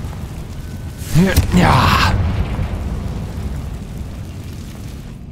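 In the Hogwarts Legacy video game, the Confringo fire spell goes off with a whooshing, booming fiery blast, then fades into a low rumbling tail. A person speaks briefly just before it.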